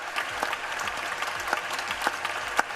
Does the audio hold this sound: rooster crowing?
no